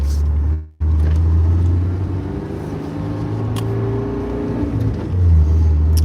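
Engine of a 2023 Honda Civic Type R while driving, a steady low rumble and hum with a brief dropout near the start, then continuous cabin drone that swells slightly toward the end.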